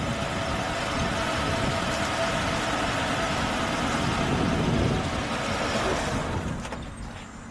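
A 1983 AMC Eagle Sport SX/4 4x4 idles with a steady, close engine rumble that keeps running for several seconds, then fades out as the engine is switched off.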